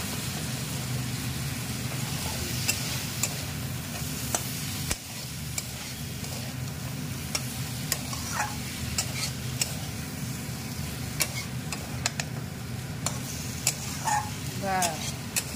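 Prawns frying with onions in a pan, a steady close sizzle with scraping stirs and sharp clinks of a utensil against the pan, with occasional voices in the background.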